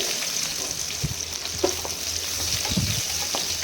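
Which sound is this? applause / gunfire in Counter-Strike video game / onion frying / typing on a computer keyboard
onion frying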